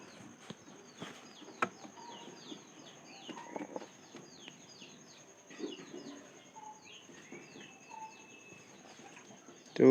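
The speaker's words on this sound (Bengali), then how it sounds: "তো হালি টাইপের কবুতরের একটু ডাক আসলে অন্যরকম হবই" Hali-type pigeons call with soft, quiet coos and chirps scattered across a calm loft backdrop, close but faint, with no talking.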